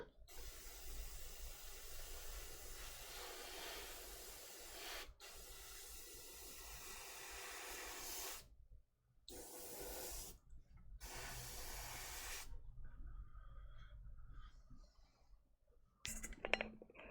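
Airbrush spraying paint onto a Stompa miniature model, a steady close hiss in several long bursts separated by short pauses, ending with quieter clinks.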